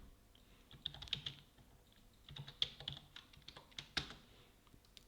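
Light typing on a computer keyboard, a quiet, irregular run of soft key clicks with a few sharper taps, close by and heard alone.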